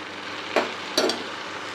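Pre-fried prawns tossed into a pan with spices, yam and potato for a traditional Bengali curry, a soft steady sizzle broken by two short scraping stirs close by, no voices.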